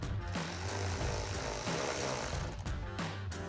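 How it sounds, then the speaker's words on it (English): A 10mm socket ratchets a fender liner bolt tight on a 2012-2015 Toyota Tacoma, giving a dense, steady mechanical clicking and grinding that runs close and loud for a few seconds with no talking. "then we'll grab our 10mm socket to finish tightening that down."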